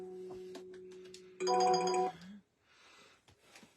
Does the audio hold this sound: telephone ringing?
yes